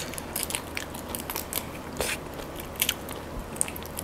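Close, crunchy chewing on a big steamed shrimp head, with irregular crackly bites and wet mouth noises repeating throughout, fairly quiet and with no talking.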